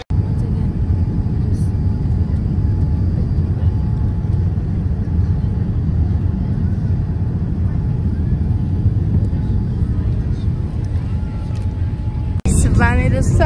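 Cabin noise on board a Boeing 787 airliner that has just landed, a loud, steady low roar that fills the whole stretch and breaks off near the end, after which a voice is heard.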